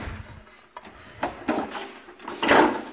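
Folding Lippert solid entry steps on a 2020 Puma 25RKQB rear-kitchen travel trailer knock and clatter into the door frame in a few short metallic bumps, ending in a louder rattling clunk, close by with no talk.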